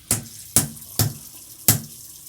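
Tap water rinses a razor at a sink during a budget shave. Four short, close splashing bursts come at an uneven rhythm, with quiet gaps between them.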